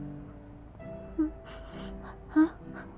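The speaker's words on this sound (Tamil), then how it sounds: "இதை சொல்லவே நீ இவ்வளோ மூச்சு வாங்குற" Heavy, audible breathing and panting from a man in a dramatized scene, with short gasping breaths and a couple of sharper catches, close and fairly quiet.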